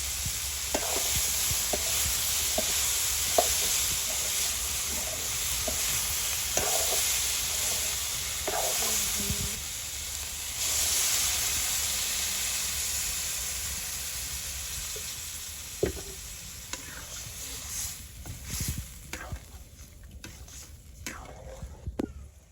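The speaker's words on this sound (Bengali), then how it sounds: "এখন দিয়ে দিচ্ছি চানাচগুলো যেগুলো সাঁতালি রাখছি" Sautéed ingredients go into a pan for a light pointed-gourd and small-shrimp curry in a village kitchen. A steady loud sizzle of frying runs throughout, broken by scraping stirs and occasional clanks of the spoon.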